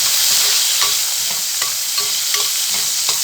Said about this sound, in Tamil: சேர்த்துட்டு லேசாக வதங்கி வரட்டும்.